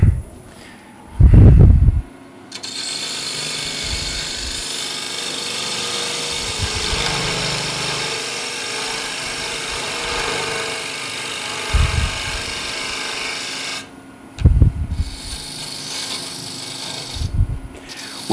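A wood lathe turns as a tool shapes a mini birdhouse, producing a long, steady whirring cut with scraping texture that stops and restarts near the end, with short low thumps between passes.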